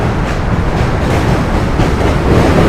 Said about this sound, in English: M train.